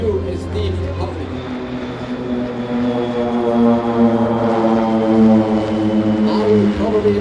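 A Pilatus PC-7 propeller aircraft flying an air show display drones steadily and loudly throughout, its engine tone swelling slightly, with speech in the background.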